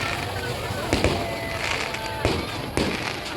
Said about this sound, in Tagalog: Fireworks dito sa Sky Ranch